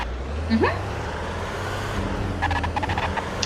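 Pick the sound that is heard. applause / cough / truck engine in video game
truck engine in video game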